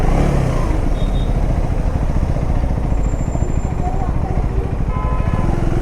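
A KTM Duke 390 gen 3 motorcycle engine running steadily at close range, a loud continuous rumble with low throbbing pulses, while someone talks over it.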